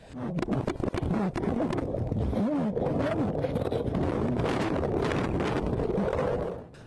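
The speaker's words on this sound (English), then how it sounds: "His body camera capturing the rushing, muffled sounds of being submerged." A body camera submerged under a drainage pipe records a loud, continuous rushing, muffled roar of water with bubbling swirls throughout, no speech.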